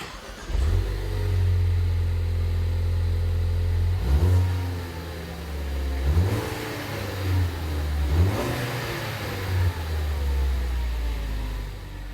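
A stock 2015 Ford Focus ST exhaust revs up and settles back several times: a steady, loud, low idle drone broken by rising throttle blips near 4, 6 and 8 seconds, with no talking.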